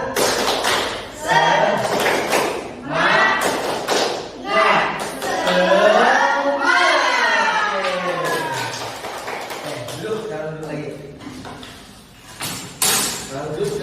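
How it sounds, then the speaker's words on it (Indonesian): A classroom group does a rhythmic spirit clap, sharp hand claps in quick patterned bursts mixed with a voice leading and chanting along. "Kita tepuk semangat ya. Tepuk semangat."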